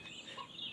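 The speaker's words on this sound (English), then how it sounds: "Too much clucking for you?" Chickens cluck in a video-game hen house, a brief, soft burst of hen clucking against a steady hum of background noise.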